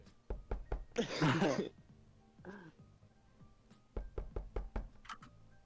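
Several sharp knocks come in quick clusters, a few taps, then a pause and another rapid series. A brief voice and a short noise break in between.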